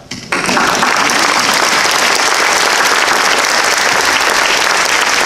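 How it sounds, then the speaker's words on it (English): A burst of loud, sustained applause from a crowd at a university alumni reunion, starting abruptly and holding steady clapping throughout. "give them a huge round of applause at this point"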